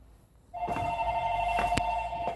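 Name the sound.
telephone ringing with an incoming call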